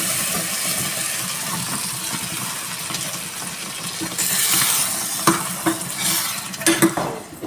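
Lentils tipped into a pan of fenugreek-leaf dal and stirred, giving a close, steady scraping and sizzling with a few louder clinks of the spoon against the pot toward the end.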